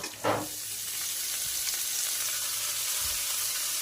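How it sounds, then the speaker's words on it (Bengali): Teora greens dropped into hot oil: a brief thud as they go in, then a strong, even sizzling hiss that holds steady and close, with faint stirring knocks. "এবার শাক দিয়ে দেব"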